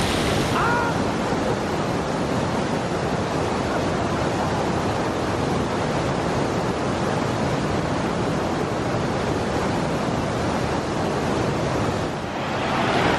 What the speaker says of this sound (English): I want to go touch the waterfall just because